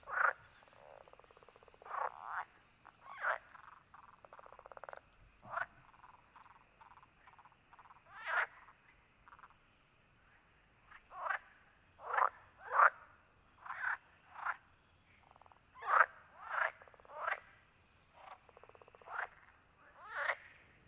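Toads croak outdoors in a quiet natural setting, their short calls repeating at irregular intervals over twenty seconds, faint to moderate and heard alone.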